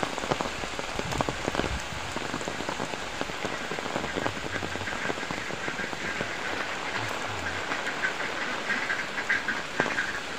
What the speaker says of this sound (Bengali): কি বৃষ্টি, ব্যাপক বৃষ্টি।